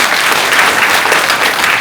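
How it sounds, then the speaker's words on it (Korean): Audience applause at a Korean book concert talk event: dense, even clapping from a full room, loud and close, filling the whole short stretch without a break. "박수 한번 치겠습니다."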